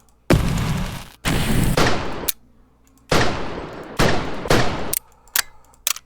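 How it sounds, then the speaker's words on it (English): Gunshot sound effects from a first-person shooter built with Unity PlayMaker come in several loud bursts of rapid fire separated by short silences, with a few single cracks near the end. "Do we have some sort of shooting effect or sound?"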